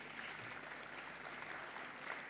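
An audience at an autumn meeting session in Bishkek applauds. The clapping is faint and distant, a steady wash that stays even throughout.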